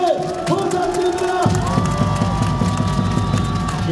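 Crowd cheering and shouting at a Korean volleyball match, with an arena horn or music tone and a low rhythmic drone under loud, continuous fan noise and whoops.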